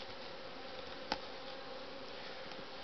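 Honeybees flying around their hive before going out to forage make a steady, dense buzzing drone, close and continuous, with a brief louder tap partway through.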